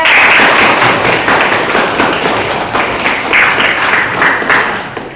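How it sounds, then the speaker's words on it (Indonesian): Children clap their hands together in an Indonesian Islamic studies (fiqh) classroom, a loud, close, dense burst of clapping with rhythmic surges that carries on steadily for the whole stretch without any talking. "Tepuk tangan untuk Aska."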